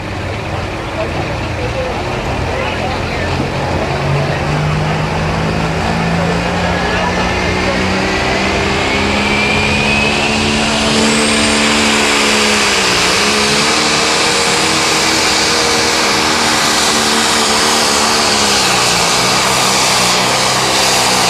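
A 9500-pound limited pro stock tractor roars through a pull run at Mound City, Missouri, its loud engine note rising and wavering as it strains down the track, with an announcer's voice faintly beneath.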